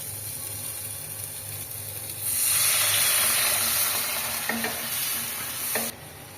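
Spice paste sizzles loudly in oil in a pan, a steady frying hiss that swells midway, with a few faint clinks of a stirring utensil near the end and no talk.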